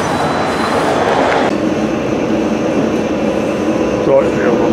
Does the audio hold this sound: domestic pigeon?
no